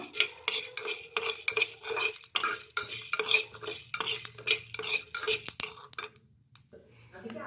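Coriander seeds and spices are dry-roasted and stirred in a pan, giving close, rhythmic scraping and rattling strokes, about a dozen in quick succession, before the stirring fades near the end.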